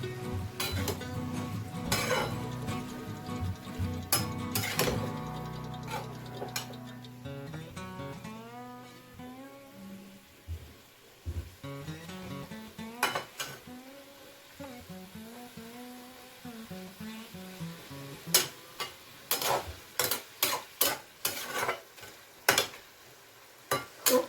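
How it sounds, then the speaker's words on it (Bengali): Ingredients being mixed in a pan for a Bengali home-style lunch dish, with a spoon scraping and clinking against metal in irregular strokes, some louder knocks near the end, over a faint sizzle. "এবার ভালো করে একটু সবগুলোকে মিক্স করে নিচ্ছি।"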